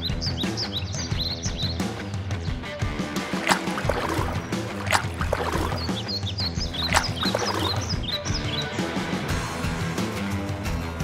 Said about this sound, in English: Just paddling in the Bentpine.